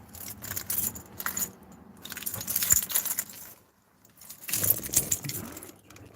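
A bunch of keys jangling close up in two clear rattling bursts separated by a short quiet pause, with faint background noise.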